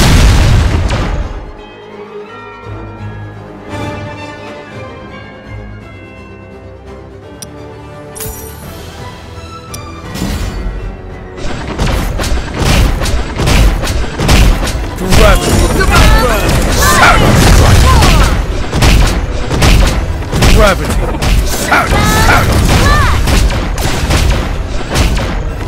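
Explosions in the block-building video game Bricks Kingdom: a deep boom at the start, then a long dense barrage of loud blasts, crashes and rumbling that builds up and keeps going with hardly a pause.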